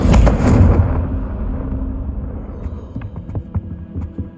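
A Confringo blasting spell cast in Hogwarts Legacy on PlayStation 4 Pro: one loud, sharp burst at the very start that decays into a low rumbling tail, with faint scattered clicks and thuds afterward.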